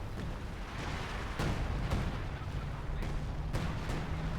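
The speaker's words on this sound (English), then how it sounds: "That is a considerable volume of artillery." An artillery barrage lands in Company of Heroes 2, several distinct booms and impacts spaced irregularly over a rumbling battlefield bed, moderately loud with no voices.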